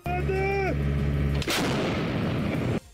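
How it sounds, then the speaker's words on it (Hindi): Ukrainian artillery cannon fires shells in a heavy, booming blast with a long rumbling roar that fills the surroundings, following a brief tonal whine and ending abruptly. "जेलेंस्की के सैनिकों ने कुछ ही देर में तोप से गोलों की ऐसी बरसात की"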